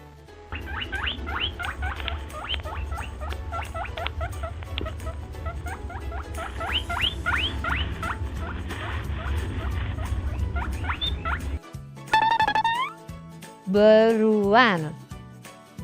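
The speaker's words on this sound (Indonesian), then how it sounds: "rabbit." A rabbit makes quick, high squeaks and pattering sounds close by for about eleven seconds. A short burst of voice sounds follows at the end.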